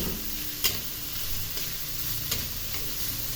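Steady sizzle of mushrooms frying in a pan for fried rice at home breakfast, with a few sharp utensil clicks from stirring, close and continuous, no talk.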